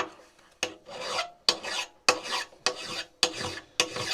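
A hand file rasps against the metal of a Japanese-made arbor press in seven even, close strokes, each a gritty scrape starting with a sharp bite, in a quiet room.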